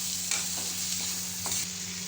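Onion and green chillies frying in a pan while being stirred, a steady close sizzle with a low hum beneath and a few scraping stirs, without talk.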